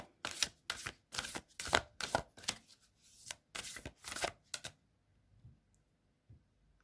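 A deck of cards is shuffled nearby in a series of quick rustling, riffling bursts, about a dozen in rhythm, followed by near silence.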